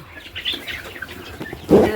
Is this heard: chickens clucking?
yes